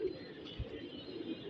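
Pigeons in a Karachi pigeon-keeping setting give soft, low rolling coos, a couple of faint calls close by over quiet outdoor background.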